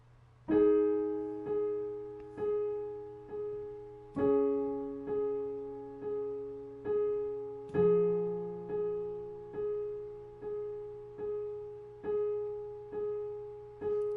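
Solo piano plays a slow section of a song, sustained chords struck every beat or two, each ringing out and decaying before the next.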